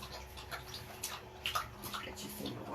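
Water poured into a dog's bowl indoors, a soft splashing and trickling at moderate distance with faint intermittent clinks and background room noise.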